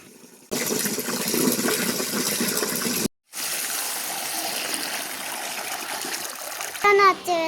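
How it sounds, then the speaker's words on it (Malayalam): Water poured into a small freshly dug pond, a steady gushing splash that starts abruptly, cuts out briefly, then resumes in a continuous stream, with a voice chiming in near the end. "അപ്പം ഇനി അതിൻ്റെ അകത്തേക്ക് വെള്ളം പിടിച്ചൊഴിക്കലാണ് ഞങ്ങളുടെ ജോലി."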